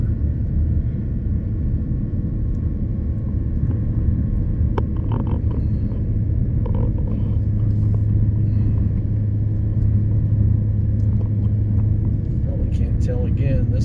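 Hybrid car driving along a Yellowstone road between Mammoth Hot Springs and Gardiner, with a steady low rumble of the motors and road noise throughout, continuous and close inside the cabin, with a few light clicks.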